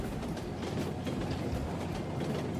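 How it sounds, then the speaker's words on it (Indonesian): A cartoon locomotive speeding along railway tracks, a steady rumbling rattle of wheels with faint rhythmic clacking, moderately loud and continuous. "Loko pun terus memacu kereta itu hingga kecepatan maksimal."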